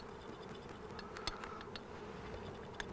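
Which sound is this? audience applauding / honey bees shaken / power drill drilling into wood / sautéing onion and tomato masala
honey bees shaken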